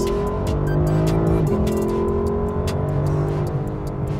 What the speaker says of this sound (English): All that hooting and hollering out there, which is the wrong word to use for a Lexus, but I'm gonna go with it, is coming from a 5-liter V8 engine making 471 horsepower